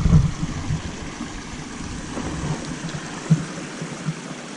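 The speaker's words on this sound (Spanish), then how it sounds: "el río Duje, aquí en Picos de Europa" The Duje river in Picos de Europa flows in a soft, continuous wash with faint low rumbles and a few small splashes, heard from a short distance with no talking.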